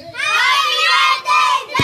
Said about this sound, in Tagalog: Isang malakas na sigaw muna